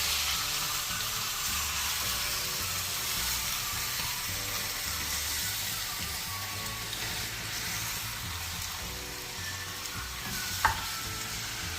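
Onion with chicken sizzles in a pan over a lowered gas flame, a continuous soft hiss and crackle with faint stirring scrapes and one brief clink near the end.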